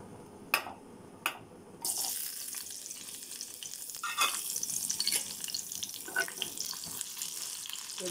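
Chicken pieces sizzle and crackle in oil in a kadai, a steady hiss with occasional pops and stirring scrapes after two sharp knocks at the start.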